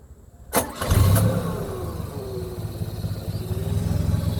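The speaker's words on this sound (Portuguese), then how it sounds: "Eu vou ligar o carro aqui pra vocês verem como é que fica o barulho" A car engine cranks and catches after a brief quiet moment, then settles into a steady, close running rumble; the car has a steering system that makes a strange noise.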